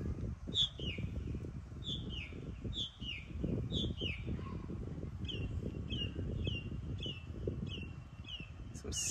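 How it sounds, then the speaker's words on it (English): Several birds chirp outdoors beside a garden worm bin, a string of short, repeated high tweets and whistles recurring across the whole stretch over a steady low background rumble, fairly close and moderately loud. "Some serious birds chirping"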